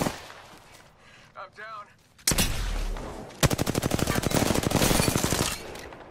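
Bursts of gunfire in the battle royale game Apex Legends, played as Wraith: a sharp opening shot, then a dense, rapid run of repeated shots that stays loud and close for several seconds, after a brief spoken line.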